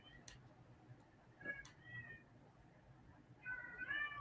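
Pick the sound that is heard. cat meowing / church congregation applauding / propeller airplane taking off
cat meowing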